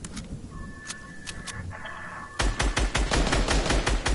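Gunfire in Fortnite Save the World: a few sparse single shots, then a dense, rapid automatic burst that grows louder and keeps firing to the end.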